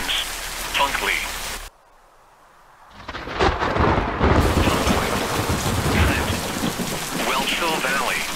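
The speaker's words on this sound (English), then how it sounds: "This severe thunderstorm will impact the following locations" Heavy rain with thunder from a severe thunderstorm in the Roblox storm-chasing game Twisted, loud and steady. It drops out for about a second, then returns with rumbling and a spoken voice over it.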